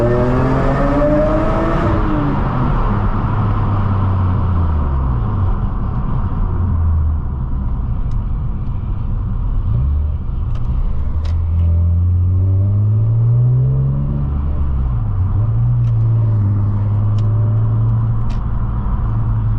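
A BMW E46 M3 CS engine revs hard inside a tunnel, loud and close, with repeated rising and falling sweeps of engine pitch booming off the walls as it climbs through the gears.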